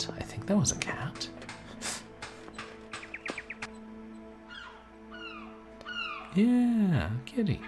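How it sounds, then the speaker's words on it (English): A cat meows in the video game The Lost Crown, several short mewing calls, one louder drawn-out meow near the end, heard among game sound effects and ambient music. "was that a cat? I think that was a cat."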